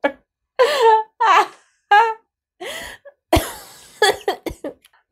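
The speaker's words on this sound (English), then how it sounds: "I can't laugh without coughing." A person coughs in a series of harsh, close bursts, some short and some drawn out, with brief pauses of silence between them.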